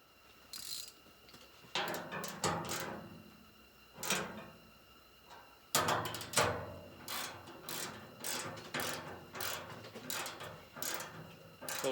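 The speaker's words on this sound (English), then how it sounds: "just a hand ratchet" Hand ratchet tightening bolts on a John Deere broom deflector kit, close and clear: bursts of rapid metallic clicking in repeated strokes with short pauses between, no talking.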